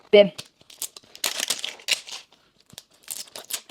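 Crinkly Mini Brands toy packaging is torn and crumpled open up close in short rustling bursts with pauses, while someone talks over it.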